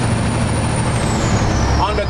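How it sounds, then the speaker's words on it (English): A truck's engine rumbles steadily, heard from inside the cab with the windows down near Atlanta, a loud close drone with road and wind noise mixed in. "I like to have the windows down so y'all can hear how I hear the truck."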